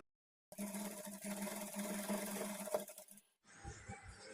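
A sewing machine runs a double stitch along the shoulder joint of a kids' peplum blouse, a steady, even whirr lasting about three seconds after a silent start, then stopping before a quieter rustle.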